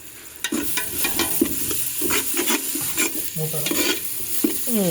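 A curry is stirred in a pot over heat, a spoon scraping and knocking in quick repeated strokes beneath a steady, close sizzle of frying, with no talking.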